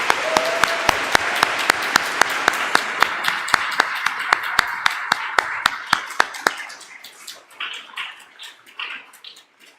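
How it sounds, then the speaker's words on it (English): Applause from an audience at a school family recognition event, with dense clapping joined by a steady run of loud sharp claps for about six seconds, then thinning to scattered claps and room noise. "Let's give them applause."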